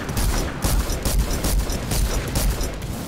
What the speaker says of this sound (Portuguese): Meu tiro no avião tá pegando lá longe